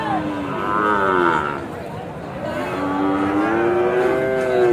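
Long, loud moos from cattle, including young Sahiwal bulls, close by at a livestock market, one after another, with faint crowd noise behind.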